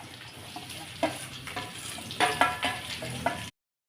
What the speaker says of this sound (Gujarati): આ લસણ છે એ આપણે ફ્રાય કરશું